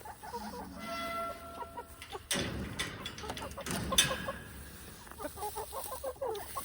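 Chickens clucking and scratching around a hay bale on a homestead, with several close clucks and soft scuffing, and someone talking over them.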